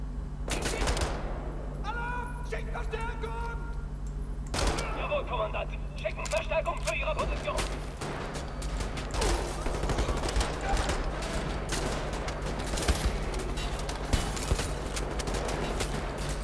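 Gunfire in the first-person shooter Wolfenstein: The New Order on hardcore survival difficulty, with repeated loud shots and bursts over a steady low game hum, mixed with other game effects through most of the stretch.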